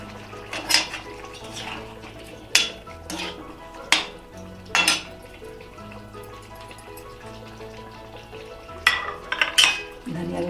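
Dry-roasted spices being added to aloo gobhi in an iron kadhai: scattered metallic clinks and taps of a utensil against the pan, with quiet stirring and a low sizzle between them.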